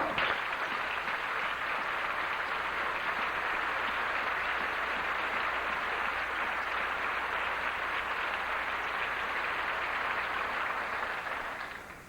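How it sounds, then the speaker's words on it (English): Sustained audience applause at a 1990 Highlands High School graduation commencement in Fort Thomas, Kentucky, a dense, steady wash of many hands clapping for about twelve seconds, fading slightly at the end. "Let's give them a applause."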